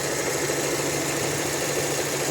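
A Renault Megane 3 engine idles steadily with an even, continuous hum and slight rattle, close by and alone.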